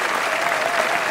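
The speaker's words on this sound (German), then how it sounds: "Da gibt es, glaube ich, mal einen riesen Applaus in die Kamera hinein." Dense, steady applause from a large studio audience at a German Sunday television music show, filling the whole moment with even, unbroken clapping and no talk.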